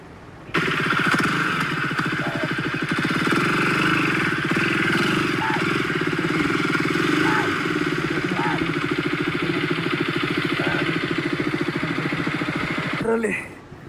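A KTM Duke 250 motorcycle idles steadily and loudly up close on a muddy village trail, its rapid even thrum holding for over ten seconds before cutting off at the end.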